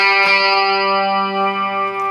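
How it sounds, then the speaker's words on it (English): An electric guitar chord rings out through an amplifier via a Rockman, sustained and shimmering with chorus and echo, slowly fading. "right now we have chorus and reverb, or echo as they call it, on"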